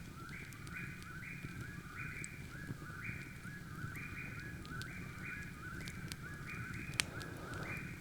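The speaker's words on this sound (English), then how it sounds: "But the sound of the birds are so beautiful." Birds sing at a lakeside campsite at dusk, a steady, moderately distant chorus of repeating call phrases that runs the whole time, with no talking.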